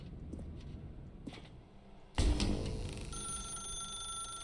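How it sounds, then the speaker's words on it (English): A telephone rings in the video game The Stanley Parable: Ultra Deluxe, a sudden bright ring cutting in after quiet ambience and continuing as a steady tone. "Now pick up the phone"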